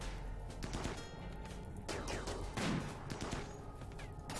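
Gunfire in Rimworld, soft rapid bursts of shots crackling in short clusters with one heavier impact, faint and distant-sounding, with quiet talk beneath.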